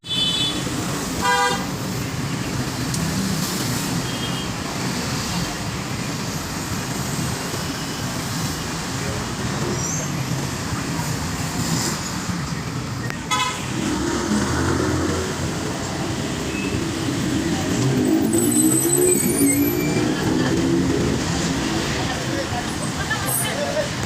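Jeepney traffic on a busy street in Quezon, the Philippines, with steady engine rumble from passing cars and buses, several short horn toots, and a background murmur of voices.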